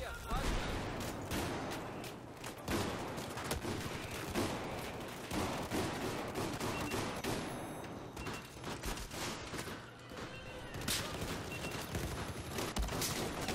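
Rapid gunfire from an M1014 shotgun blends into a dense, continuous firefight in Battlefield 4 on the Metro map, with shots cracking steadily throughout and layered with other weapons, loud and close.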